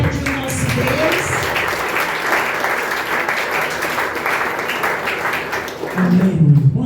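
A church congregation claps steadily for several seconds, a dense sustained applause, with a voice speaking in Portuguese over it near the start and end.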